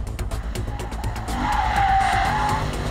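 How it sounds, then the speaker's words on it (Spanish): A Lexus drifting on a racetrack, with a rising, sustained tire squeal over a steady engine roar that grows louder midway through. "Y aquí Lucho Mendoza Junior nos iba a demostrar un poco de drifting, el piloto de Toyota."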